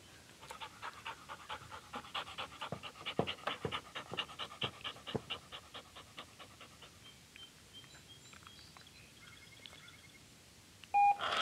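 A dog pants rapidly and rhythmically close by during fetch training, the quick breaths fading toward the end, followed by a few electronic beeps.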